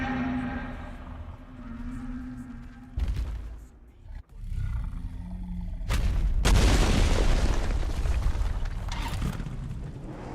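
Godzilla roaring in PUBG Mobile's Godzilla mode: loud, booming roars in bursts, with a heavy deep rumbling blast after a brief lull, game effects filling the background.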